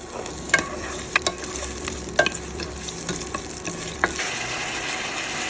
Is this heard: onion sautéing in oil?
yes